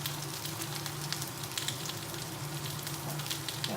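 Shallots frying in garlic-infused oil in a pan while making risotto, a soft steady sizzle with faint crackles, quiet and continuous.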